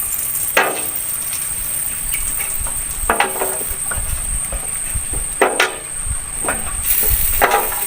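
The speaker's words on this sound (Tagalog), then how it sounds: "Igisa tayo ng bawang, sibuyas at luya." Garlic, onion and ginger sautéing in hot cooking oil, a steady close hiss and sizzle with occasional sharp clatters and knocks of a utensil against the pan.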